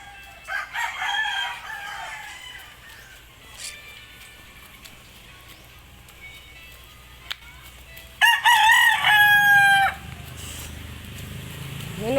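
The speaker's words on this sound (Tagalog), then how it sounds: "Ito, manok." A chicken rooster crows outdoors in a quiet rural morning setting, one early distant call followed later by a louder, nearer drawn-out cock-a-doodle-doo, with faint clucking and ambient background between.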